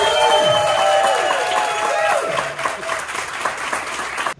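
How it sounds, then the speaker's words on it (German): Recorded applause and crowd cheering played back through a phone speaker, a dense continuous clatter of clapping with voices mixed in, fading and breaking off abruptly at the end. "Brauchst du den Applaus nochmal auf dem Handy?"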